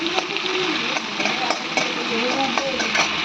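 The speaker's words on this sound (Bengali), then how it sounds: "চিংড়ি মাছটা ভেজে নিচ্ছি দেখো" Prawns frying in a pan at home, a steady hiss of hot oil with soft scraping and bubbling accents, close and continuous.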